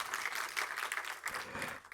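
A crowd at a development seminar in Changanassery claps in a short, dense burst. The applause is loud and steady for about two seconds.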